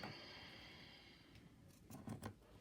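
Scissors snipping small bits off lace, faint close clicks near the end after a quiet stretch with a low hum.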